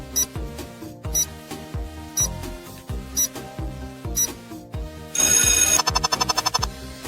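A telephone rings with a repeating electronic ringtone in regular bursts, then shifts to a louder, denser trilling pattern near the end.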